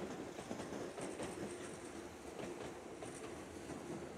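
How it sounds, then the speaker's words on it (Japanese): A Tokyu Kodomonokuni Line commuter train rumbles past the Tokyu Nagatsuta depot steadily, wheels clattering in a rhythmic clickety-clack over rail joints, a continuous roar at moderate distance. "東急長津田工場を子供の国線が通過していくシーンです"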